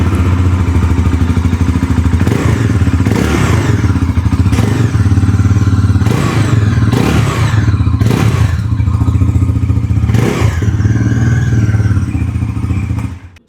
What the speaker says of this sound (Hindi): अभी सुन लेते हैं NS400Z की एग्जॉस्ट नोट।